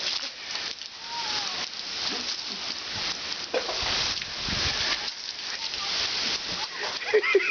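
The first rain of the season falling at Alibaug, heard as a continuous patter and splash of drops on surfaces, with a few louder spatters and faint voices in the background.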